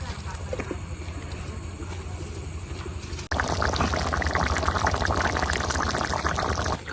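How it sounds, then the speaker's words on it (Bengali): Water poured into a chicken and potato curry in a clay pot, a close bubbling sizzle that swells into a louder, denser pouring rush partway through. "এই আলুটা সেদ্ধ হওয়ার লেগে আরেকটু পানি দিয়ে দিছি"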